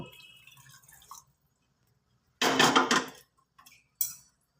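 A small splash of water is poured into a cooking pot of chicken and rice, one short burst of gushing and trickling, followed by a brief clink and quiet.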